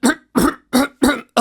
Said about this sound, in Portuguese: Depois de um breve pigarreio